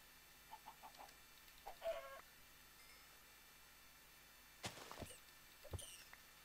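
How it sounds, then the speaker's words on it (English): Minecraft chicken in a video game clucking in short soft bursts, a few quiet clucks early followed by louder isolated clucks, with no talking. "There's a chicken here as well."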